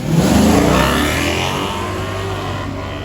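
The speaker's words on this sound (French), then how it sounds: "c'est pas le plus gros moteur, les amis, mais c'est un des plus beaux bruits automobiles que je connaisse" A five-cylinder boxer engine revs hard on a supercar in Paris, a loud, close, rasping climb that holds steady at high revs for about three seconds with no voices.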